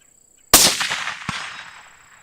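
Rifle shot fired at a 200-yard target through a UUQ 4-16X44AO scope: a single sharp, loud crack that rings out and decays, with a second smaller crack right after.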